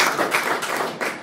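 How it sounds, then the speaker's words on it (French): An audience at a political meeting of Les Patriotes claps in a brief burst of uneven, crisp hand claps, close and fairly loud, with no one speaking over it. "Est-ce qu'on peut applaudir encore pendant qu'elle s'asseye?"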